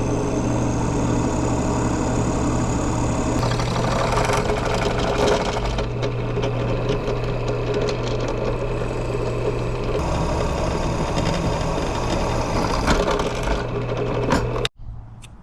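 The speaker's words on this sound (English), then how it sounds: "We'll then mount it inside of the drill press and drill those holes." A steady mechanical drone of a drill press drilling holes in metal, with grinding and whirring, continuous and fairly loud, cutting off abruptly near the end.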